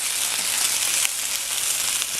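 Six egg whites and two whole eggs sizzle loudly and continuously in a hot pan with ground black pepper, a dense crackling hiss heard up close.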